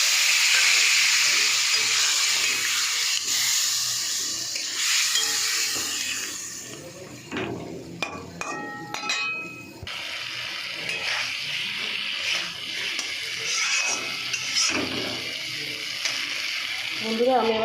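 Fish cooking in a pan with turmeric as water is poured in: a loud, close hiss of steam and sizzling starts strong, then drops to sharper crackling and bubbling, with a voice talking over it.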